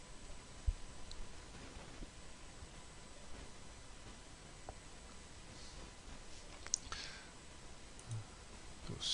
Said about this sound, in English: Just click on Download WinZip.